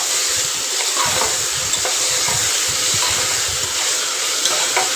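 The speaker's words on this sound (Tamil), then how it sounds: "நல்லா வதக்கணும்." Tomatoes with salt sauté in a pan for mushroom biryani, a continuous close sizzling hiss with soft rhythmic scraping of stirring underneath, no talk.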